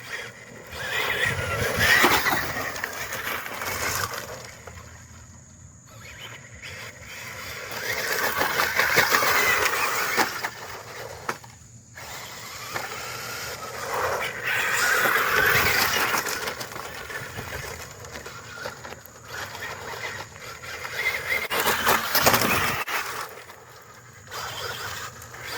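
A Kyosho Fazer MK2 RC car driving on gravel, its electric motor whining in rising and falling surges over loose crunching stones, loud and close with brief pauses between runs.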